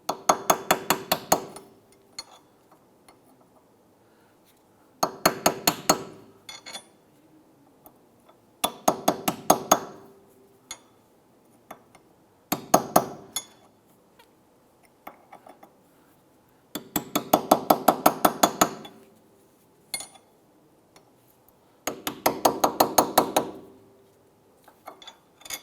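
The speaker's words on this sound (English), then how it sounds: "We're going to use a thin blade chisel tip to go ahead and get between the cap and the hub." A thin-bladed chisel tip is worked around the edge of a rear wheel hub center cap on a 2001-2005 Honda Civic, giving loud, close bursts of rapid metallic tapping and clinking, about seven separate bursts with quiet gaps between.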